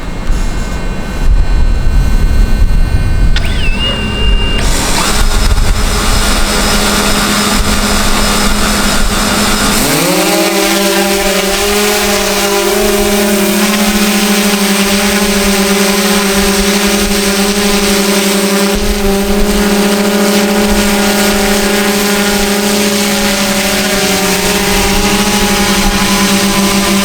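An Autel Dragonfish VTOL fixed-wing drone taking off and flying, with loud close motor noise that suddenly rises into a sustained high-pitched whine that holds steady, and no talking over it.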